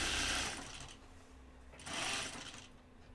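A sewing machine stitches fabric in two short bursts of whirring motor hum with a brief pause between, close by and with no talking.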